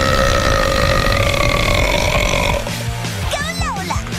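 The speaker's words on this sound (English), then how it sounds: "Biggest burp!" A loud, long animated female burp rolls out for over two seconds, then gives way to cartoon sound effects and a brief voice.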